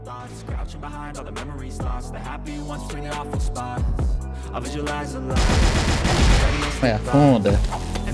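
Rapid bursts of automatic gunfire crackle from the video game CrossFire, dense and loud, with voices talking over the shooting.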